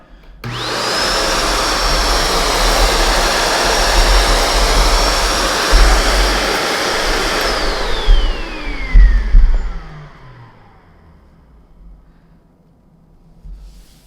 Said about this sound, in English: We have switched to our studio microphone, so you will hear the real sound of the machine while this is running.